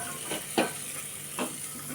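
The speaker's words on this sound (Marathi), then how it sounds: "आता यामध्ये आपल्याला टाकायचं आहे पालक" Spinach tipped into a pan of potato for palak batata khichdi, with a steady sizzle and a few quick stirring scrapes as it is mixed in.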